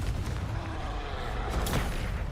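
Confringo fire-blast spell explosions in the video game Hogwarts Legacy, a dense continuous roar of booming blasts and rumbling impacts with no gaps, loud and close throughout.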